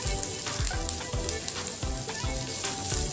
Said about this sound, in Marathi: व हे व्यवस्थित आपण तेलावरती परतून घेऊया.